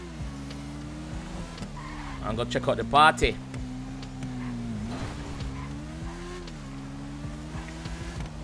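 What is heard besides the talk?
car driving and skidding in GTA 5 video game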